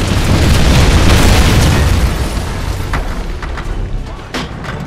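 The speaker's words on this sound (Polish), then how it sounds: "Szybciej, bo to wszystko wybuchnie zaraz." A loud, heavy video game explosion in Wolfenstein rumbles and rolls on, dense with low boom, followed by a few sharper pops as it fades.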